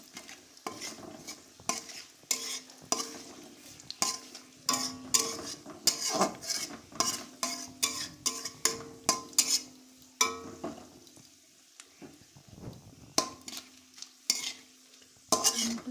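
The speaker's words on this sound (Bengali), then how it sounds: "এখানে আমি তেজপাতা, শুকনো লঙ্কা এটাকে ফোড়ন দিয়ে দেবো। দিয়ে আমি নেড়ে নেব।" Bay leaves and dried red chillies frying in hot oil over medium-low flame while a metal spatula stirs them, giving a rhythmic run of scraping clacks over a steady sizzle, close and fairly loud, with no talking.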